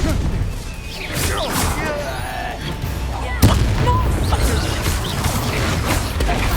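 A Confringo blasting spell in Hogwarts Legacy cracks off as one sharp explosive burst amid a busy, noisy fight with continuous battle clatter and rumble around it.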